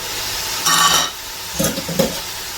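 Spices sautéed and stirred in a pan sizzle in a short burst, then a few scraping stirs of the spoon follow close by, with no voices.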